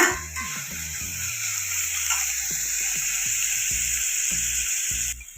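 Chopped onions sautéing in a pan with carrots and beans for millet noodles, a steady close sizzle running throughout, broken by repeated clinks and scrapes of a spoon against the pan.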